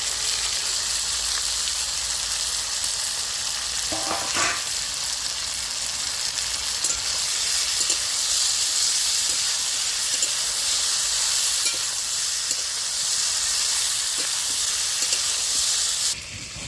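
Sautéed potatoes hit a hot pan with a burst of sizzle, then a steady hiss continues with scattered light taps of stirring for a long stretch.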